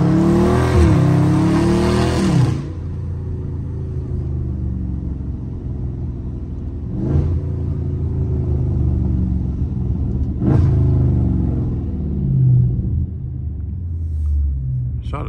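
A Dodge Scat Pack drifting: a deep exhaust rumble with a loud rev at the start, then a steady low engine drone with occasional burbling pops, close and heavy throughout.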